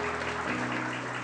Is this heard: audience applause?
yes